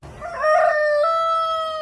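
A rooster crows once, a single loud, close cock-a-doodle-doo that rises and then holds as a long drawn-out note.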